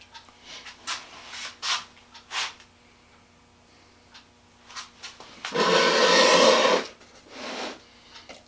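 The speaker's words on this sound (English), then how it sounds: "Probably take the DA and just go along and sand those down." A DA sander briefly runs along the wooden inside braces of a birdhouse with a close, steady, abrasive whir lasting about a second. Scattered scraping and handling sounds of wood come before and after it.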